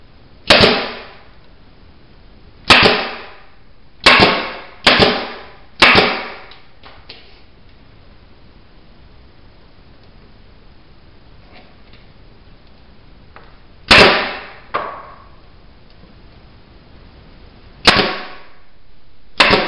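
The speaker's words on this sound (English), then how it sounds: "Now I'm going to use my pneumatic nailer." Pneumatic nailer driving nails into wood while building a beehive bottom board, sharp loud single shots spaced irregularly, with short bursts close together and quiet pauses between.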